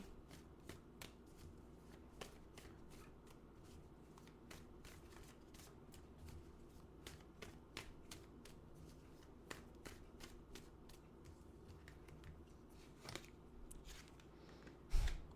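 Tarot cards are shuffled and drawn by hand: soft, close riffling and papery slaps come in quick, irregular bursts, with sharper card snaps scattered throughout and no talking.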